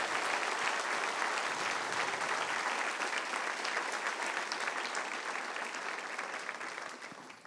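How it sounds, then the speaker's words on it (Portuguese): A church congregation applauds loudly and densely, a sustained wash of many hands clapping that holds steady and then begins to taper off near the end. "Se vai aplaudir, aplauda forte."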